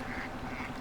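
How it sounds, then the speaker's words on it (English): A single short duck quack sounds in Farming Simulator 2017, a brief nasal call over a busy outdoor game background. "There is a duck here."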